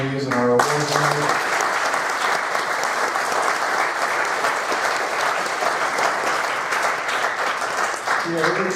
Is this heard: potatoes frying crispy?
no